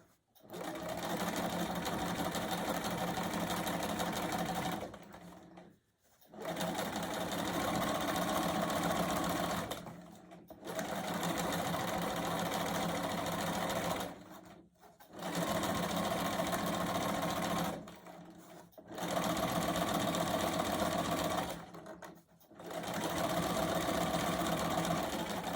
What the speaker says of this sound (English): You just sew the blocks together